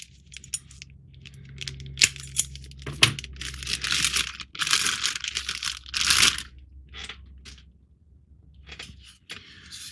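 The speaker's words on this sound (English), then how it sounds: "So why don't we go ahead and get the tape off." Tape peeled and torn from a Playmates Star Trek Deep Space Nine U.S.S. Defiant NX-74205 toy, with crinkling packaging and small clicks; a low hum runs underneath while bursts of ripping come close and loud.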